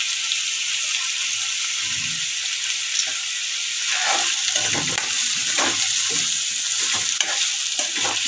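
Tomato cooking in a pan with salt for a whole masoor and potato dish, a steady sizzle broken by repeated wet scraping stirs that grow busier midway.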